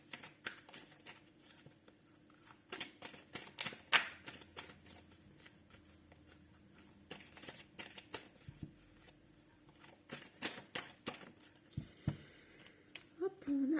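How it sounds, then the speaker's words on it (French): Tarot cards are shuffled by hand up close in soft, irregular bursts of riffling and sliding, quiet overall with small pauses between flurries. "on voit bien qu'elle se mélange un petit peu mes petites cartes"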